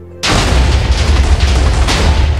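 A loud, close explosion in Minecraft, triggered while opening lucky blocks, bursts in suddenly and rumbles on as a sustained roar with low bass for the rest of the moment.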